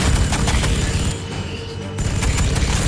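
Units fire their guns in Warhammer 40,000: Sanctus Reach, a game battle, with loud dense volleys of rapid shots and booms that dip briefly in the middle before resuming.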